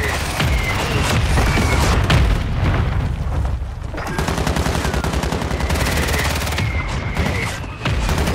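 An artillery fire mission strike pounds the area in Call of Duty Warzone, with heavy booms and rattling bursts of fire that continue steadily and loudly throughout.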